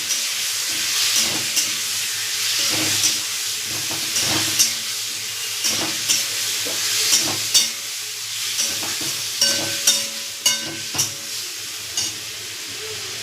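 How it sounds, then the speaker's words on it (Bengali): Chicken is fried and stirred with browned onions in a pan, a continuous sizzle punctuated by regular knocks and scrapes of a spoon against the pan, close and loud. "পেঁয়াজটা লাল হয়ে এসেছে, এবার চিকেনটা ঢেলে দিচ্ছি। ভালো করে বন্ধুরা কষাবো।"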